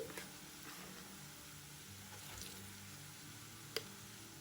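Soft, quiet sizzling of tempering spices in oil in a pan for tamarind pickle, faint crackles with a single sharp tick near the end.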